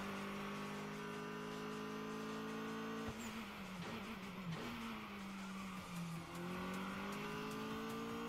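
Race car in a mountain pass racing video game sliding through a handbrake turn, engine droning and dropping in pitch as the tires scrub and squeal, then revving back up, close and continuous.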